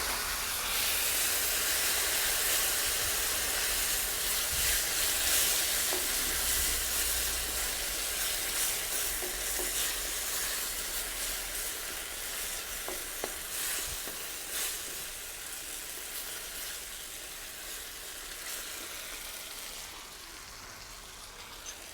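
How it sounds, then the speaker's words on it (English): Base gravy sizzles loudly as it hits chicken balti in a hot pan, a continuous hiss and crackle lasting the whole stretch and easing slightly toward the end, with no talking. "We just want to add this base gravy a little bit at a time."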